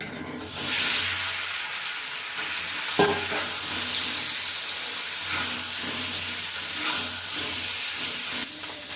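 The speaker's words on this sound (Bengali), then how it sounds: "তেলটা গরম হয়ে গেছে, এবারে আলুগুলো দিয়ে দেবো।" Potatoes fry in hot mustard oil in a village kitchen, a loud continuous sizzle and hiss with occasional stirring clinks, no voices.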